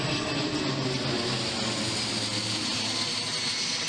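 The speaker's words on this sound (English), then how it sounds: "I got you, damn airplane" An airplane passes overhead outdoors during a homebrewing session, a steady broad roar of jet engine noise sustained throughout, fairly loud and continuous with no talking.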